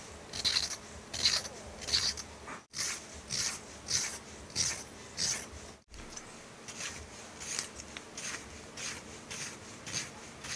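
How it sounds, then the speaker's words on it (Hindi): Carrots and radishes for pickle are peeled by hand in a quick rhythmic series of rasping scrape strokes, close and fairly quiet, with two brief pauses and no speech. "सभी गाजर मूली हमने इस तरीके से छील लेनी है।"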